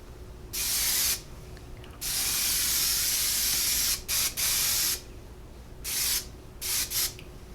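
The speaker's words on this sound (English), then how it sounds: "I'm just going to hairspray all over, like the ends as well" Hairspray hisses from an aerosol can onto styled hair in short close bursts, several sprays of varying length separated by brief pauses.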